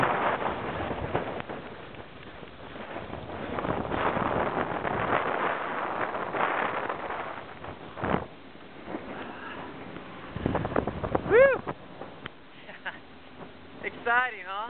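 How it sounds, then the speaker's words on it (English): Gale-force wind gusting around a boat at sea, a steady broad roar and buffeting that rises and falls, with someone talking over much of it and brief whistling tones near the end. "We have a gale force wind right now"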